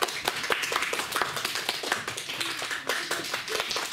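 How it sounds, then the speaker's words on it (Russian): Audience applause at a children's science conference, dense continuous clapping from many hands filling the room, no voices. "Давайте поприветствуем их аплодисментами"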